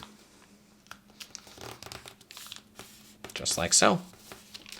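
Paper airplane wingtip being folded by hand, soft crinkling and rustling of paper with a louder crisp crackle near the end, close and quiet, with someone talking intermittently.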